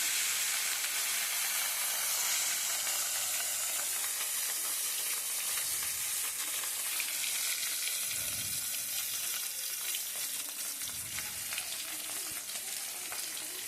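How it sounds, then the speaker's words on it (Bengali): Katla fish frying in mustard oil in a pan, giving a steady crackling sizzle and hiss that carries on evenly throughout, with a few faint low bumps of movement. "সর্ষে তেল দেবো মাছটা ভেজে নেবো"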